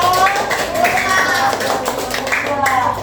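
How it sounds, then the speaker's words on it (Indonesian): A group in an Indonesian primary classroom applauds a presenting group, steady clapping from many hands running throughout under overlapping voices. "Beri aplaus untuk kelompok."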